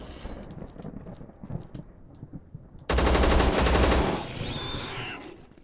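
Automatic gunfire in the video game Zero Sievert: scattered distant shots, then a sudden loud, sustained rapid-fire burst that rings for about a second before tapering off.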